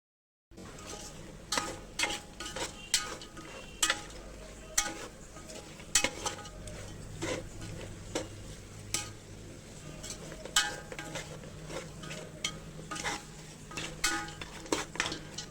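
A spoon scrapes and knocks rhythmically against a pan while spices fry in peanut oil, the sharp clacks repeating about once a second over a low, soft sizzle, with no voices.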